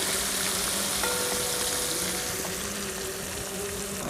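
Eggs fry in a pan for a spicy pepper egg fry, making a continuous, even sizzle up close with no talk and no breaks.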